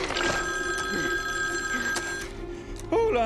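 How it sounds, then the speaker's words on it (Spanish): A telephone bell rings continuously and loudly in a scene from the film Venom, with a voice briefly heard near the end. "Anne está en el teléfono, Eddie!"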